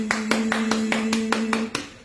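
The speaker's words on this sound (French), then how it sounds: "On applaudit." Sharp, evenly spaced hand claps, about eight in a steady rhythm, close and loud. They sound like a single person clapping rather than a full audience, with no talking over them.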